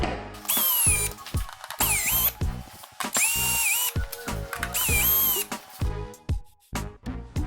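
A power tool backs out the windshield bolts on a KLR 650 motorcycle, giving several short, close whirring bursts with brief pauses between them, with ratcheting clicks in the gaps.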